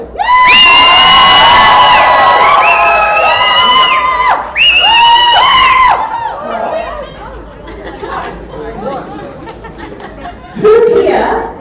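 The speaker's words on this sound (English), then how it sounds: "Can you please cheer with your loudest voices if you're a member of the bright side?" Wedding reception guests cheer, whoop and shout loudly together for about six seconds, in two bursts, then fall to a lower crowd chatter with scattered voices and a brief renewed shout at the end.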